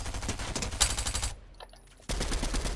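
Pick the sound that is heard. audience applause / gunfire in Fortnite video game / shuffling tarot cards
gunfire in Fortnite video game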